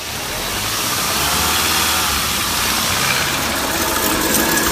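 A 2015 Mk7 Volkswagen GTI with a failed left front wheel bearing runs on a lift, its wheel turning to give a loud, steady rumbling drone with a faint rising whine.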